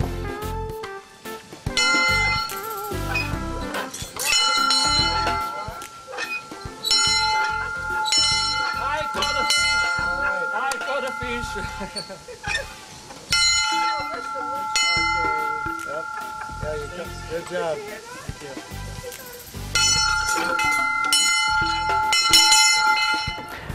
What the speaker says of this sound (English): When you catch a muskie, you ring the muskie bell, and you let everybody at the resort know a muskie was caught.